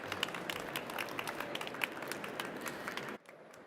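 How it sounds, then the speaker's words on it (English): Faint applause from a distant crowd at a youth awards ceremony, a steady patter of many hands that cuts off abruptly near the end. "Big round of applause."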